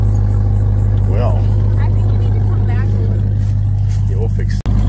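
A truck fitted with a Hellcat engine drives along with a continuous, heavy low engine rumble, while people talk intermittently over it.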